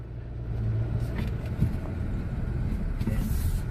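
A Volvo XC40 T4 FWD Momentum engine under heavy acceleration, a steady, loud low drone of engine and road noise held throughout, with no talk over it.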